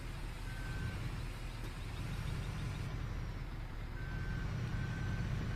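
Truck reversing alarm in Farming Simulator 15, two short steady beep tones over a constant loud engine rumble, no talk.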